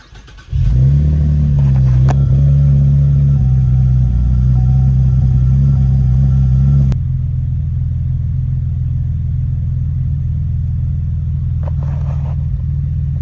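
A Cadillac CTS coupe with a 3.6 engine cranks and starts, then settles into a loud steady idle, with a drop in the hum partway through.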